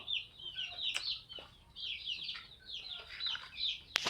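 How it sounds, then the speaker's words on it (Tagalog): Chickens clucking and chattering softly nearby, a continuous flock murmur with occasional sharper calls and a brief knock. "Chicken."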